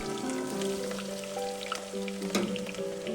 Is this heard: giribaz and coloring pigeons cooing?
no